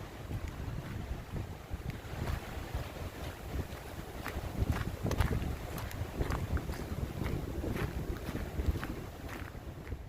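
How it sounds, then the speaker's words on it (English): Strong, fierce wind roars across a mountain lookout at High Knob, buffeting the microphone with a steady low rumble and gusty surges throughout, with no voices. "That wind is fierce."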